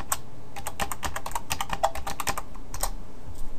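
Someone types a command on a computer keyboard, producing a rapid, close run of crisp key clicks with a few pauses and no voices.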